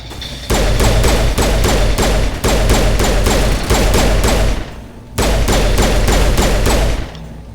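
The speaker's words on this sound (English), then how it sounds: "why is this pistol so powerful right now?" Rapid pistol fire in Mass Effect Legendary Edition, a loud close stream of evenly spaced punchy shots in long bursts, broken by two short pauses before firing resumes.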